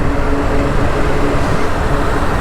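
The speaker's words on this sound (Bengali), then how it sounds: "এলাকার মধ্যেই চালাইতেছি বাইক" A Yamaha MT 15 motorcycle riding along a local road near the Dhaka–Narayanganj road, giving a steady loud engine and wind roar, close and continuous.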